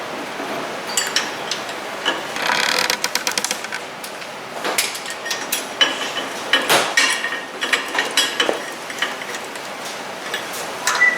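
Ratchet with a chrome socket working the wheel nuts on a Honda Talon X side-by-side, giving bursts of sharp metallic clicks and clatter, close and fairly loud, with short pauses between runs.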